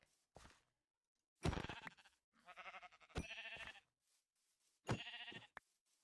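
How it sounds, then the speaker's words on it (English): Sheep in the video game Minecraft bleat in a few separate bursts across the span, each cry loud and clear with short silent gaps between them. "So I'm gonna hunt some sheep"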